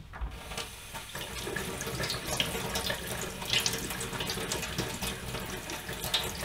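A part from a Dyson V11 cordless vacuum is rinsed under a cold running tap, the water splashing steadily and close up the whole time without a pause.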